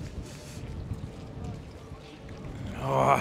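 Wind buffets an external microphone outdoors at a farmers' protest by the Brandenburg Gate in Berlin, producing a low, uneven rumble that swells into heavier gusts toward the end.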